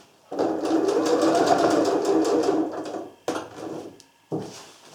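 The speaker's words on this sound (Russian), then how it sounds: "Шьем строчка в строчку." A sewing machine runs steadily for about three seconds as it stitches parallel seams on a homemade travel bag. It stops, then gives two short bursts of stitching, close and fairly loud.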